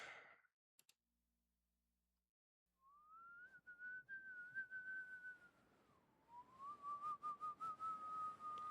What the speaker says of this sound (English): You really struggling to whistle.